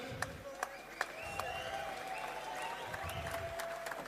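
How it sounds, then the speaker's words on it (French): Light applause and scattered claps from a small crowd at a Senegalese event honouring a champion, with tonal whistles or voices ringing over a murmuring background. "Applaudissez à Red"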